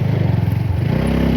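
A motorcycle engine hums steadily at close range as the bike is ridden along a path near a forest stream.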